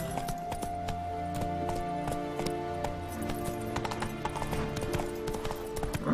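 Galloping hooves of Roach, Geralt's horse in The Witcher 3, clip-clopping steadily and close throughout, layered over a game soundtrack with a brief whinny-like texture.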